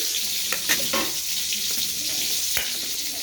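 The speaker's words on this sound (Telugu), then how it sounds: "పచ్చిమిర్చి చూడండి ఈ కలర్ వచ్చేటట్టు బాగా నూనెలో వేయించుకోవాలి" Green chilies fry in hot oil, after cumin and coriander seeds, for a tomato chutney. A dense, continuous close sizzle is broken by a few stirring scrapes, and no one talks.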